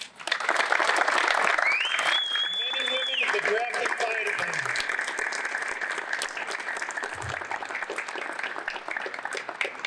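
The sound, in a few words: audience applause for the fire department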